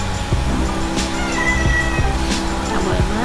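A 2.5-year-old medium long-haired Persian cat meows several times in drawn-out wails during a bath, nearly buried under a loud, steady wash of running water.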